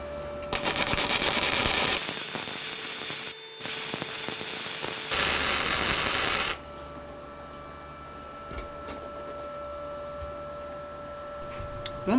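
Flux core welding with an Arccaptain MIG 200 at 160 amps, a loud continuous crackling hiss in two long bursts with a brief break, then stopping into a quiet hum.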